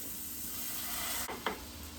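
A steady sizzle of mushrooms stewing with sour cream in a pan, with a soft stir or clink partway through and no voices.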